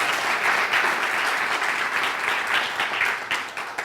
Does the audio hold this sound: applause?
yes